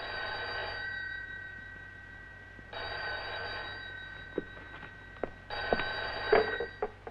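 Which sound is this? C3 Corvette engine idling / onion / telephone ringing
telephone ringing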